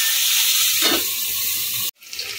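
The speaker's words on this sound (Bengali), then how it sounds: "আমি এটাকে ভেজে ভেজে নেব।" Spiny gourd (kakrol) pieces fry in a little oil in a pan with a steady, close hiss, a brief stir near the middle, then a sudden cut to near-silence before the sizzle returns more quietly.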